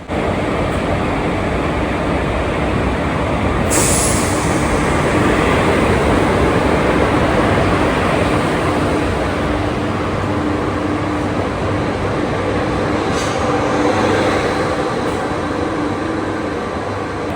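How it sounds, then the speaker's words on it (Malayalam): An LHB passenger train, the 56305 Nagercoil–Thiruvananthapuram North service, rolls in with a loud, continuous rumble and wheel noise, close by, with occasional sharp squeals over the steady roar. "നമ്മുടെ കേരളത്തിൻ്റെ ആദ്യത്തെ LHB പാസഞ്ചർ ട്രെയിനിൻ്റെ റേക്ക് ഇവിടെ വന്നിരിക്കുകയാണ്"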